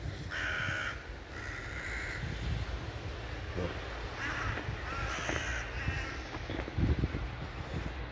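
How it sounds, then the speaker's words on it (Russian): A crow caws repeatedly in snowy outdoor weather, upset by a dog running after it, with several harsh bursts over wind noise and faint rustling. "Ворона возмущается."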